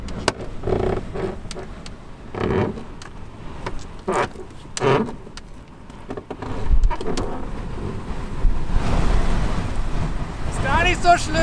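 Outdoor wind rumbling and gusting beside a van in South America, with low buffeting that swells louder toward the end, with a few brief noises in between.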